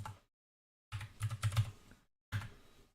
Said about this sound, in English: So we're just going to type in fetch